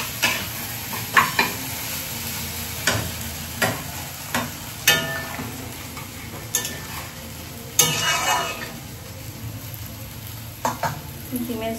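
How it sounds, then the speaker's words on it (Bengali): Egg curry cooking in a pan, a low bubbling simmer punctuated by repeated scraping stirs and occasional metallic clinks, close by and fairly quiet. "ডিমের ঝোল হচ্ছে।"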